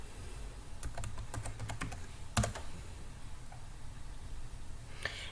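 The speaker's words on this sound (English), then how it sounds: "This is where you would type in your library card number." A library card number is typed on a computer keyboard: a quick run of keystrokes, then a sharp louder click, over a quiet room hum with no talking.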